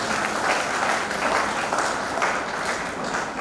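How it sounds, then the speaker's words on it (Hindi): Sustained audience applause at a humorous poetry gathering (kavi sammelan) held by Janardan Rai Nagar Rajasthan Vidyapeeth in Udaipur, a dense, steady wash of many hands clapping close and loud throughout. "एक बार जरा आप अपने दोनों हाथ हवा में उठाकर तालियां बजाकर बता दीजिए।"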